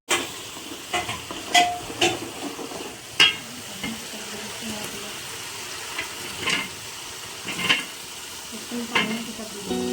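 Onions sizzle steadily in hot oil for pulao, with sharp intermittent scrapes and clicks of a spoon stirring against the pot, close and alone without talk.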